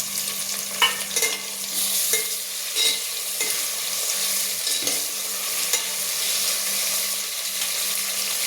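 Tomato dropped onto onions frying in a pan for sambar, a steady hiss of sizzling broken by occasional stirring scrapes and clinks, close up and continuous, with no voices.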